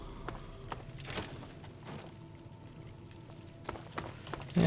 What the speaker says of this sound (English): just the water fountains.